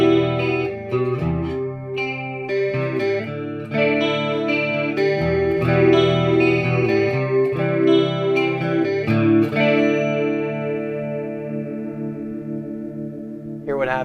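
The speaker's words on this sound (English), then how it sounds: "That kind of sounds more like a usable standard kind of 80s chorus." Electric guitar through a chorus effect on a Positive Grid Spark amp, a shimmering, lightly swirling 80s-style tone over strummed and picked chords that ring out and fade, heard alone at moderate level.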